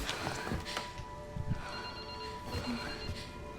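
Telephone ringing inside a hotel in the video game Resident Evil Requiem, a steady electronic ring tone sounding through the game's ambience with a few soft thuds, no voices.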